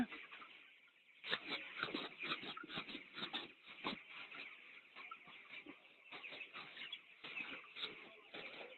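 Chickens on a poultry farm stir and cluck as they are roused from sleep, a dense, continuous chorus of many birds close by, rising and falling without pause.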